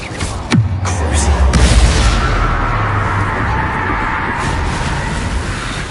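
An Incendio fire spell cast in Hogwarts Legacy, a loud whooshing burst that opens with a sharp crack and rolls into a sustained roaring rumble that slowly fades.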